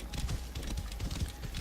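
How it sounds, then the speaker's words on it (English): Horse hooves pound rapidly in a video game duel, a dense rhythmic clip-clop of galloping close by, mixed with game ambience. "you can use your horse to maintain distance between you"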